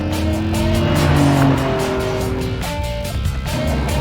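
A TVR sports car corners fast on a test track, its engine droning loudly at high revs with shifting pitch and a brief tire squeal as it sweeps through the bend, steady and close throughout.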